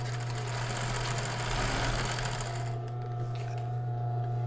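A straight-stitch sewing machine runs a fast, steady whirring backstitch along a garment seam, loud and close, then cuts off to a quieter hum.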